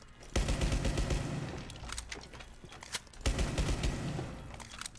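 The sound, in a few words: shotgun fire in a video game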